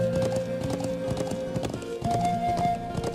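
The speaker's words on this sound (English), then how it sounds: "Go, horsey, go." Horse hooves galloping in the video game Trails of Cold Steel, a steady rapid clip-clop rhythm over looping game music with a brief neigh, close and fairly loud.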